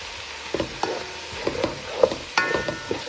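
Canned gungo peas tipped into a one-pot chicken and rice dish, with a soft sizzle under scattered stirring scrapes and light knocks against the pot.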